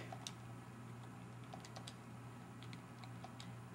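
Text typed on a computer keyboard, a faint, steady patter of soft key clicks, close to the mic, over a low hum with no talking.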